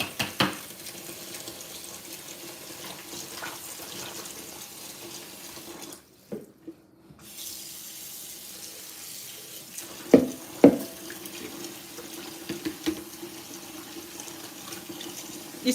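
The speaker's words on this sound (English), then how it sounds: "let's do second rinsing of our dirty catfish" Kitchen tap water runs steadily into a sink while catfish is rinsed, a continuous splashing hiss that stops briefly partway through, then resumes with occasional clunks and splashes from handling the fish.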